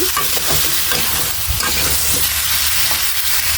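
Mustard paste sizzles and fries in hot mustard oil for a pickle, a loud, continuous crackling hiss with soft scraping of stirring underneath and no talking.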